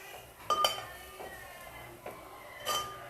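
A metal spoon stirs spices frying in a pot for a goat meat curry, giving a few sharp, scattered clinks against the pan, fairly faint and spaced irregularly, with no voices.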